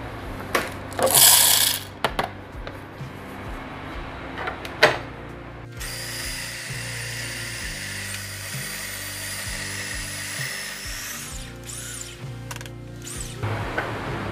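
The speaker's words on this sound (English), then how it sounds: "let's grind this." A Breville Barista Express grinder at setting 4 grinding store-bought coffee beans, a steady high whirring buzz that runs for several seconds, close up, after clicks and handling knocks, with no speech.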